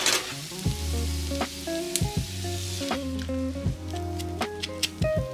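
Steady sizzling of food pan-frying until crispy and browned on both sides, with occasional crackles, under a backdrop of music.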